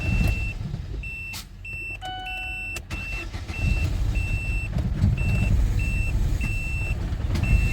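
A Chevrolet Lacetti with a cold engine revs hard toward 5000 rpm, a loud rough engine roar swelling after a brief start-up clatter, while a regular beeping warning tone repeats over it.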